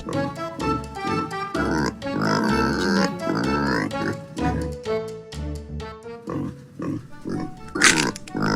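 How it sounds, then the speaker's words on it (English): A pig grunts and oinks briefly beneath a loud, upbeat music track, the animal sounds close but partly masked. "Pig."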